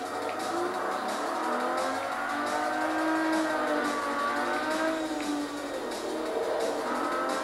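A Ferrari 250 California engine in Forza Motorsport 3 hums continuously at close range. Its pitch rises and falls as the car accelerates and eases off through corners, with no talking over it.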